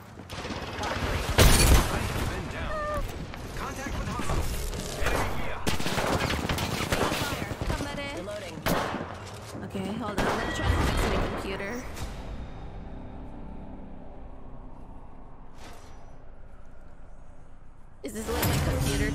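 Rapid gunfire bursts from the video game Apex Legends crackle through a busy firefight, loud bursts and sustained automatic fire mixed with game effects, with a voice talking over parts of it.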